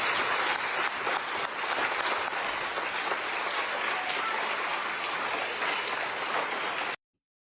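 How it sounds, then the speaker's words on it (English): A crowd at a church event applauds loudly and continuously for about seven seconds, a dense wash of many hands clapping that stops abruptly. "a lot of them here are clapping like seals at this notion"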